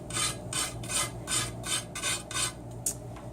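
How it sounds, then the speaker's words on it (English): A ruler scrapes loose kiln wash off a kiln shelf in about eight rhythmic, rasping strokes, close and fairly loud, with short pauses between strokes and no voices. "You don't have to strip the whole thing, just where the kiln wash is coming off pretty easily."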